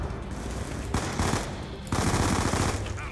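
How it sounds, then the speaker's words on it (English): An MP5 submachine gun rattles off rapid automatic bursts in Call of Duty Black Ops 2. The loud, dense fire comes in two long runs separated by a brief lull. "this MP5 is insane! Good fire rate, the ammo's crazy, not a recoil"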